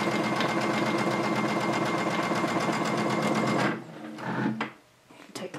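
A sewing machine runs steadily while stitching binding onto a quilted placemat, a loud, even mechanical whir that stops abruptly near the end, followed by a few soft handling sounds.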